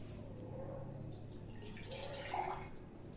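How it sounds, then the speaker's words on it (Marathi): Water is poured from a cup into a small cooking pot for making tea, a faint close trickle and splash in a quiet kitchen. "अर्धा एक कप पाणी घाल त्याच्यात"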